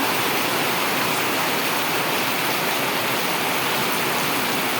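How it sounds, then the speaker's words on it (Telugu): A loud, dense roar of heavy rain pouring down without pause at night, close and steady like a downpour on the ground and a shed roof. "ఫుల్ వర్షం పడుతుంది అసలు ఘోరంగా అంటే ఘోరంగా పడుతుంది"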